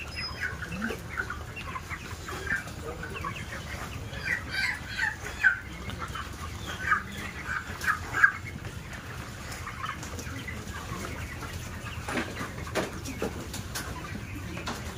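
Broiler chickens cluck in a raised poultry house, a crowd of soft murmuring clucks with scattered sharper calls rising and falling over steady farm background noise, moderately distant.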